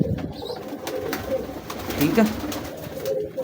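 Pigeons coo softly in a loft of breeder pigeons, low burbling calls repeating close by beneath a voice speaking briefly.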